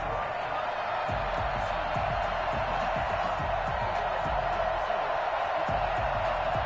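Stadium crowd noise from an EA Sports football video game, Detroit Lions versus Seattle Seahawks, a steady dense roar with faint thumps and cheers beneath.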